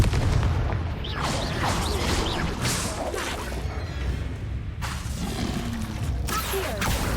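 Blasts from the Confringo blasting spell go off in a spell-casting duel game, a string of whooshing bursts and booms over rumbling battle noise, loud and close.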